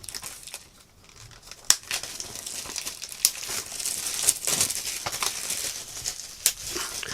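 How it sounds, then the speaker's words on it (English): Plastic shrink wrap being peeled and torn off a Region 1 DVD box set, close crinkling and crackling with several sharp tearing snaps, fairly quiet and with no talking. "I'll actually unwrap it."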